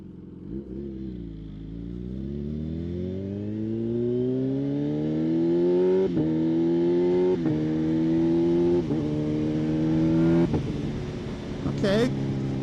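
A Kawasaki ZH2 motorcycle fitted with a Brock Performance exhaust accelerates hard through several quick-shifted gears, its engine note climbing steadily and snapping back at each shift, loud and close throughout.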